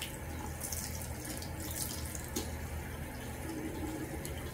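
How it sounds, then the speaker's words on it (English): Running water pours steadily from a tap to rinse soap out of a girl's hair, a continuous close hiss of flowing water with faint splashing and no talking. "we're gonna wash off all the soap in her hair"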